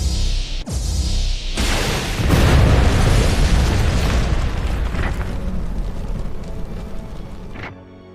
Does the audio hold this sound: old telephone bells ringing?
no